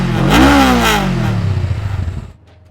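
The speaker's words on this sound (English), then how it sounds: "Let's also have a listen to the stock exhaust." Stock exhaust on a 2021 Honda Rebel 500 (CMX 500) motorcycle revving up sharply once, then falling back to a steady idle that cuts off near the end; close and loud with no talk.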